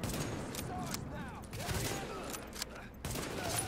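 Bursts of rapid gunfire from The Division, a shooter video game, crackle fairly close and loud across the clip, with a brief gap near the middle, under a dense game soundscape.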